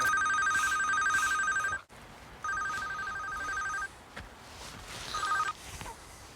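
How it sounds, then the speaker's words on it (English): A mobile phone ringtone rings outdoors in a pigeon-shooting hide in Essex, a repeating electronic trill in bursts with brief gaps, fairly faint over background hiss. "If there's one thing guaranteed to scare the woodies away, it's a ringtone."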